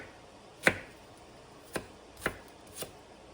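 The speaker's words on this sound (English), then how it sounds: "this is a lot of onion, but I do want them to be chopped up into small pieces" Onion being chopped into small pieces with a knife on a board: four distinct, sharp, close knocks spaced unevenly over a few seconds, with a quiet background.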